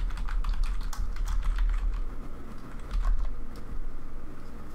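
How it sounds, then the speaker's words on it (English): Steady, fast typing on a computer keyboard while entering an address into MS Word 2016, with close, dense key clicks running continuously and no talking. "I'm going to type in the same thing I typed in the other one."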